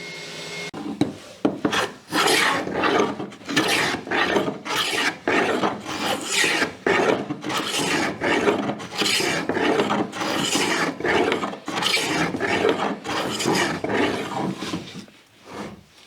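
Corners being rasped off an Irish oak bowl blank: a loud, close wood rasp in rhythmic back-and-forth strokes, repeated steadily with brief pauses between bursts.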